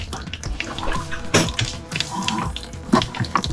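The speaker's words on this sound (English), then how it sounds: "All right, I'm running the water." Water running from a newly installed residential-style kitchen faucet in an RV, a steady rushing splash that swells and dips with louder bursts as the flow hits the sink.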